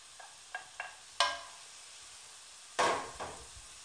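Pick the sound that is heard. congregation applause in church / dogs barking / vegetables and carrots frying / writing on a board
vegetables and carrots frying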